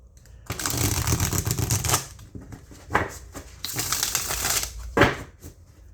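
Tarot cards riffle-shuffled in bursts: two long crackling riffles, then short snappy bursts at the end, loud and close with no talk.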